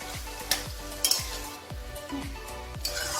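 Vegetables for fried rice stir-fry in a hot pan, a steady sizzle broken by about eight regular scraping strokes of a spatula against the metal, close and fairly quiet, with no talking.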